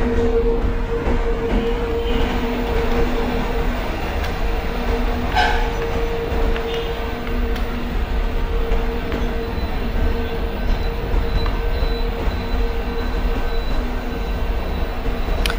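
A passenger train rolls into Roora Junction in an MSTS simulation, a constant rumble with squealing wheels and a short sharp clank partway through, no voices.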